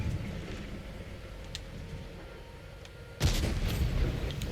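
A tank cannon in World of Tanks fires a shell: after a stretch of low ambient rumble, one sudden loud boom breaks in and trails off into a sustained roar.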